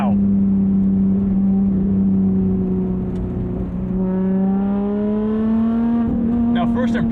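A 2020 Lotus Evora GT engine revs loud and close, its tone holding level, dipping, then climbing steadily toward a higher pitch, with a faint voice briefly at the end.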